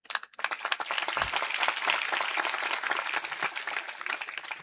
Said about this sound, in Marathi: वाजवायचे असतील तर वाजवा टाळ्या.